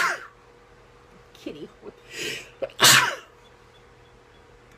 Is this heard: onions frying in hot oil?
no